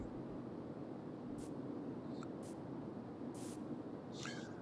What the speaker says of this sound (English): if you just spray a dot now